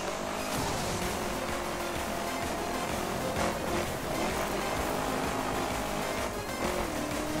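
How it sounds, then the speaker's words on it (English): A turbocharged car engine in the racing video game The Crew, driven on dirt, holds a loud, steady roaring drone throughout with slight swells in pitch and no breaks. "does that have a turbocharger on it?"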